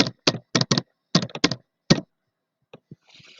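Close, loud keystrokes as a user name is typed on a computer keyboard, coming in quick bursts of about ten clacks, followed by a pause and a few softer taps.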